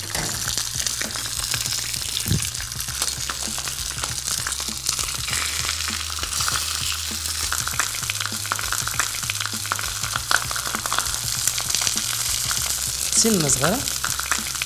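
Mullet fish frying in a small amount of oil in a pan, a constant busy sizzle and crackle with occasional pops, close and fairly loud, with someone talking briefly over it.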